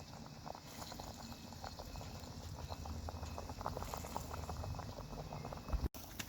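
Potatoes and carrots boil in a pot, a steady, quiet bubbling with small pops running throughout, ending in a brief knock.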